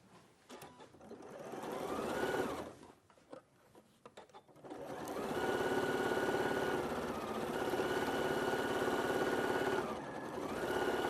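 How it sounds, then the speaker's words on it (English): A sewing machine runs a quarter-inch seam along the full length of joined bag strips, a close mechanical whir that starts and stops briefly before settling into a long, steady run. "So now we're just going to sew the full length again"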